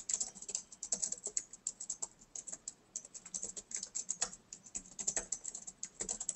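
Someone types a review on a computer keyboard, a brisk, close and continuous patter of key clicks with uneven rhythm and brief gaps between bursts.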